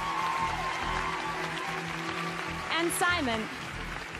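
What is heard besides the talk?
audience applause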